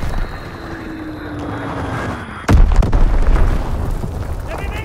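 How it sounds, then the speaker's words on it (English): An enemy bomb explodes in the World War II shooter Call of Duty: WWII. A sudden heavy boom lands midway through steady battlefield ambience, and a loud rumbling roar follows it to the end. "Enemy bomb incoming. Get to cover."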